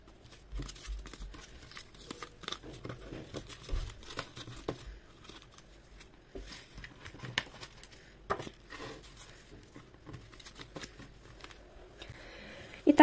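Plastic packets rustle and crinkle while being gathered up during an unpacking of collectible items, a soft, irregular run of crackles and handling noises at close range with no talking.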